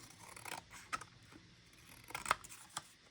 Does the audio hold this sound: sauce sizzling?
no